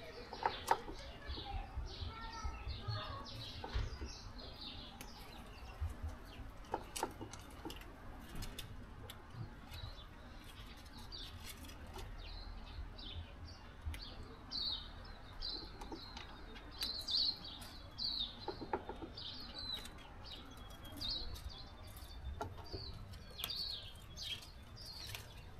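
Pigeons coo and mixed birds chirp and call in a quiet outdoor setting, scattered faint calls and short tweets spread irregularly throughout, some nearer and sharper than others.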